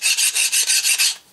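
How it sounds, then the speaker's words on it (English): A metal file rasps in seven quick, even strokes, close and bright, then stops, filing burrs off a drilled metal dividing head plate. "Then run the file over it again."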